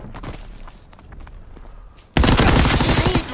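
In a WWII shooter game, a burst of rapid, loud machine-gun fire erupts after a stretch of quieter gunfire and battlefield clatter, then rattles on steadily to the end.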